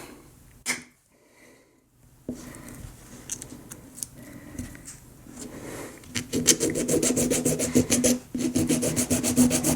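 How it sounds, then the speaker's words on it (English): Hand filing of snipped lapel pin backs flat for custom grips: a steady metallic rasping that starts sparse and quiet, then becomes a rapid run of close, loud back-and-forth strokes over the last few seconds. "So all I do is I just snip those off and then file it down flat."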